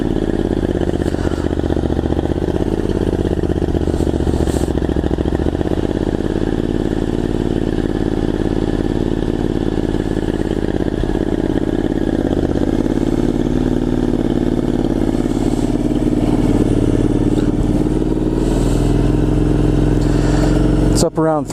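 A Triumph Scrambler 900 motorcycle idles steadily with the choke on after weeks without starting, a loud, close, continuous engine rumble that gradually smooths out, with no talk over it.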